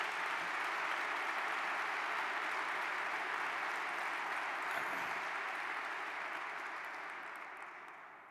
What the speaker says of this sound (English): please, another round of applause for that collection of that